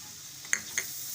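Tomatoes go into a pan of softened onions for a green turmeric curry: a quiet, steady sizzle with two light metallic clinks of a utensil partway through, no talking.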